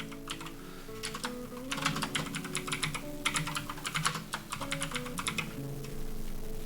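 Keys clatter on a computer keyboard in bursts of rapid typing with brief pauses, fairly quiet and close, no voices.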